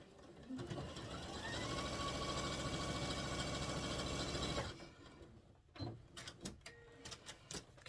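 A sewing machine stitches a quilt piece with a steady, close mechanical whir for several seconds, then stops abruptly, followed by a few scattered handling clicks and taps.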